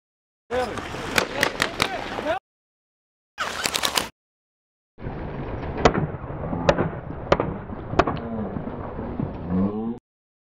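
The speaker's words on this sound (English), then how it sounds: "we could hear the same burst of gunshots that we had previously identified in Manor's footage" Sharp cracking gunshots ring out in separate bursts during an incident at Umm al-Hiran, loud repeated reports with echoing tails, broken by stretches of silence.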